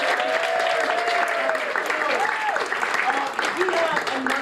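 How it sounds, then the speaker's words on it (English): Audience applause for improv players at an improvised murder mystery show, steady clapping throughout while a host speaks over it. "let's give our players a round of applause."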